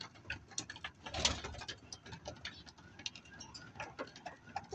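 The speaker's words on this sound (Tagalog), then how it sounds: "So bali yan yung ating kalapate." Racing pigeon back at its home loft after a release in rainy weather, soft cooing and wing flutters amid ticking, faint ambient sounds and a brief louder flap.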